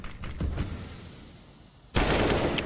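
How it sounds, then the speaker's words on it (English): Rifle gunfire on the Nuke map in a Counter-Strike match: a few quick distant shots early on, then a sudden loud close burst of fire sustained to the end. "Clean headshots coming out of the rifles here for PaiN."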